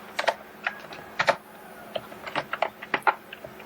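Fingers typing on a computer keyboard close by, a quick irregular run of crisp key clicks with short pauses and no voices.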